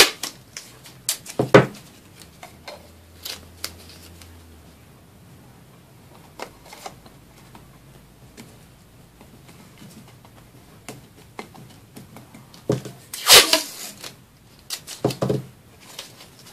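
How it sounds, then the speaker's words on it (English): Masking tape being pulled from the roll and pressed down over the top of a champagne glass to keep paint out, giving scattered short rips and crinkly taps, with a louder burst of tearing near the end. "So I'm just going to tape that down."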